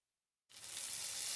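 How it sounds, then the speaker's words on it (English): Burgers sizzle on a grill, a sudden broadband hiss that starts abruptly after a moment of silence and holds steady and loud to the end. "You just gotta love the sizzling sound of burgers."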